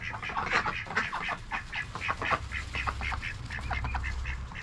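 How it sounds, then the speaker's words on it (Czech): Farm ducks quack busily in a continuous, overlapping chorus, several birds calling at once at close to middle distance, with a low rumble underneath. "Ducks."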